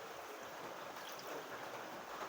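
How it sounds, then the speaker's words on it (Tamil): Water pours into a cooking pan, a soft, steady rushing splash with no voices, quiet and close. "நமக்கு கொஞ்சம் கிரேவியாக வேணும் அதனால் கொஞ்சம் தண்ணி ஊற்றிக்கலாம்"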